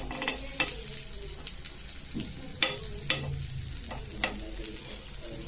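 Sprouts roasting in ghee in a pan, a soft steady sizzle broken by several sharp scraping stir strokes, close up with no talk.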